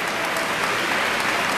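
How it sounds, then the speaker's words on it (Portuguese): A church congregation applauds during an evangelical worship service, producing a short burst of dense, uniform clapping that stays loud and steady throughout. "As palmas louvam o nome do Senhor Jesus Cristo"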